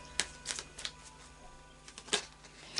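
Quick riffling bursts of cards being shuffled, several short crisp flutters spaced irregularly, close and fairly quiet.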